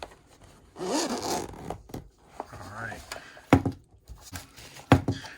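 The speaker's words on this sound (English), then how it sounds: "This nice carrying case is good for travel. And let's go ahead and unzip it." A zipper being pulled open on the soft carrying case of a Venty cordless rechargeable fan, several close ratcheting zip strokes with brief pauses and light handling rubs between them.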